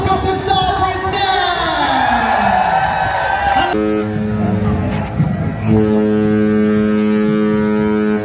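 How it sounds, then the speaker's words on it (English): The Star Princess cruise ship sounds its deep, loud horn in long sustained blasts as part of a traditional three-blast salute, with crowd noise and voices mixed in around the tones. "They did a traditional 3-horn blast like we have seen on other cruise ships"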